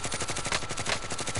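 Rapid gunfire in Call of Duty Warzone, a sniper battle royale match, dense repeated shots crackling steadily and loudly throughout with no talk.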